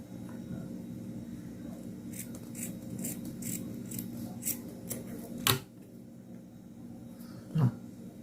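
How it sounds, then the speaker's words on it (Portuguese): Scissors snip through crochet yarn in a quiet room: a series of light, crisp cuts in quick succession, then two louder, sharper snips near the end, close to the ear. "Vou cortar aqui."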